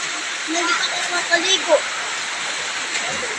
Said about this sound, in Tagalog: napakalakas na ng ulan guys